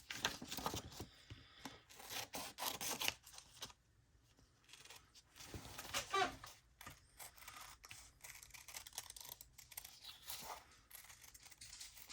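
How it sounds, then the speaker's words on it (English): Scissors trim a paper spring belly band for a junk journal while the glue is still wet, making quiet, intermittent crisp snips and light clicks in a hushed room. "we are going to trim this while the glue is still wet"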